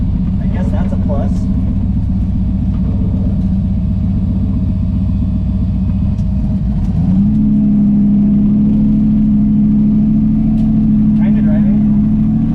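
A turbocharged Ford Fairmont leaking fluid, low on gas and fed through a stock carbureted tank, drones steadily from inside the cabin while driving, its engine note shifting and settling into a higher steady tone partway through.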